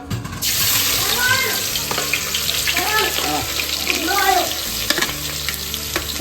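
Onion goes into a hot pan and sizzles loudly and steadily in an outdoor cooking setting for dal baati. Voices talk over the constant hiss throughout.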